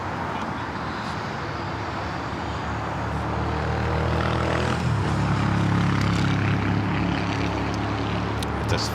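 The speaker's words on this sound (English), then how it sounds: "American flight to Charlotte now rolling down at 25 right." An American Airlines jet takes off on runway 25 Right at LAX bound for Charlotte. A loud, broad engine roar rises and swells steadily at a distance, with no voices.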